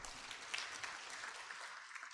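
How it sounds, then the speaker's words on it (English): Faint, distant applause rises from the audience at a Kenyan National Treasury event as the chairman is honored, a soft, steady patter of clapping. "Let's give the chairman another round of applause."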